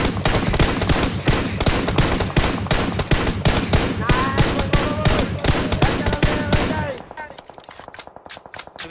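Rapid automatic gunfire in PUBG Mobile fires in loud, dense bursts of sharp cracks that hammer on for several seconds, then drops to fainter, more distant shots, with voices talking now and then.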